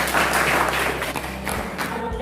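A classroom full of students claps together, a dense, steady patter of many hands close by that holds at a fairly even level for a couple of seconds.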